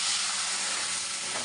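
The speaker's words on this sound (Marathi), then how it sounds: "आता अगोदर ना मी हे दूध घालते" Milk poured into a hot pan for mung dal halwa, giving a steady, close, broadband sizzle and hiss that runs unbroken throughout with no talking.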